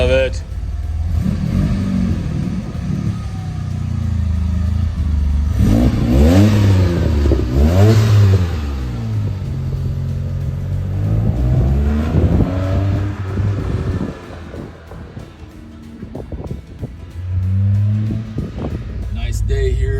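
DeLorean engine revving on a mild day, a loud, close rumble that swells and falls through several throttle blips over a steady idle, with voices talking over it.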